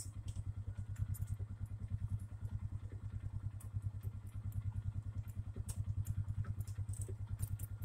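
A truck-sized vehicle engine idles steadily after a cold start in snowy Alaskan winter, a loud, fast, even low chugging with light clattering, running continuously and alone.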